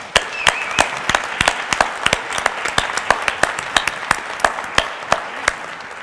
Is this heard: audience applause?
yes